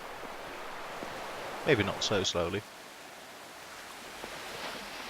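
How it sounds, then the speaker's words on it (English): Water sloshing and waves lapping in The Lost Crown game, a soft continuous wash of surf-like noise in the background, briefly overlaid by someone talking. "the constant seagulls and the sloshing of the water would drive you slowly insane"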